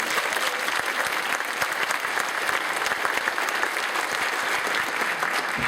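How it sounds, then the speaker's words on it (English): Steady, dense applause from a large audience, loud and continuous throughout with no pauses. "Give a round of applause, please."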